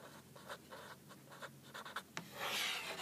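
A pen writes on paper while labeling a geologic cross-section, making soft, scratchy strokes in short bursts that are quiet and close, with no voices.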